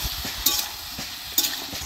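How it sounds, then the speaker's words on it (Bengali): Taro and pointed gourd pieces are stirred into hot spiced oil in a pan for a fish curry, a close, steady sizzle broken by two brief scraping strokes of a spoon. "এখন আমি আহ কচু আর পটল দিয়ে দিব এরকম করে ভালো করে মিক্স করে নিব"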